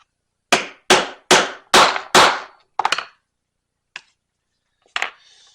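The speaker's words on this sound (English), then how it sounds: "Now we can go ahead and punch our hole" Leather punched by a hammered hole punch: five loud, sharp metallic strikes in steady rhythm, then a few lighter taps and two isolated knocks, close and alone with no talk.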